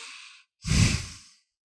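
A single long, breathy exhale close to the microphone, following a softer airy inhale and a brief pause, with no talking.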